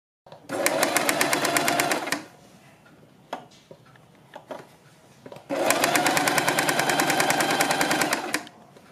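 A sewing machine stitches around a fabric neckline in two long, fast bursts of rapid rattling, separated by a quiet pause with a few light clicks of fabric handling.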